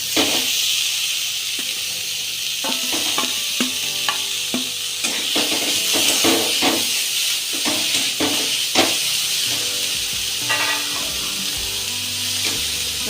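Radish greens hitting hot oil in a home kitchen pan for a small-oil fry, giving a steady, close, continuous sizzle with intermittent stirring scrapes and clatter throughout, no talking.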